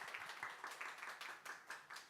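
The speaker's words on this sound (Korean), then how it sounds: "저 멋진 작품 설명해 주신 강재용 건축사님께 다시 한번 박수 부탁드립니다" Audience applause for an architect after his presentation at a Seoul architecture forum: a moderate indoor crowd clapping steadily with rhythmic peaks, faint and somewhat distant, no voices over it.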